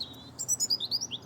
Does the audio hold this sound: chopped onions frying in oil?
no